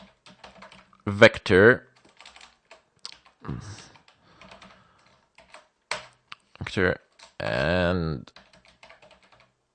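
Clicks from a computer keyboard come in short clustered bursts as code is typed, with a voice talking between and over the keystrokes.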